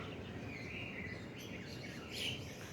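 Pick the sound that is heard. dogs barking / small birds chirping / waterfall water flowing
small birds chirping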